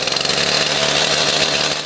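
A chainsaw roars loud and close right after starting, its engine a dense buzzing drone at steady high revs that dips briefly at the end.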